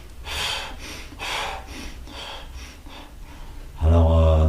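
A voice imitates out-of-breath panting, as if gasping during a walk: four heavy, breathy exhalations in a steady rhythm, close to the microphone, followed by a brief low humming tone at the end.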